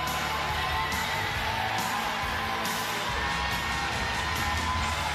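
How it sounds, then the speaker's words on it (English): Crowd at a Paralympic goalball match in Paris cheering and applauding the Canada and Japan teams, a dense, steady roar with scattered whoops throughout. "And now time for the crowd to give their appreciation to the two teams."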